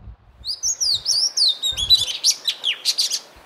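An oriental magpie-robin sings a sweet, varied song of high whistled phrases and trills. The phrases run continuously, clear and fairly close, with faint low background rumble and no voices.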